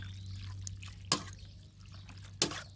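Cooled boiled water is poured over beef legs for an Isan-style sour dish, landing as two brief, sharp splashes about a second apart against a quiet, humming background.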